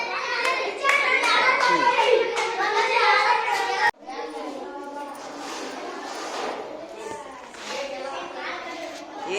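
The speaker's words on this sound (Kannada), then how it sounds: "ಚಪ್ಪಾಳೆ ಹೊಡಿರಪ್ಪ ಎಲ್ಲರೂ" A class of fifth-grade schoolchildren at an Indian government school bursts into loud, dense group applause, which cuts off abruptly and gives way to a quieter mix of children's chatter and scattered claps.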